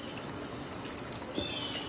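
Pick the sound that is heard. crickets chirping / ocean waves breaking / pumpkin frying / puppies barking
crickets chirping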